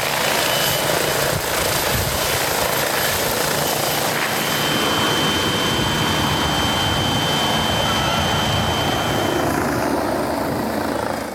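A helicopter, a $2 million chopper flying into Alatal, drones loud and steady with a continuous rotor and engine roar throughout.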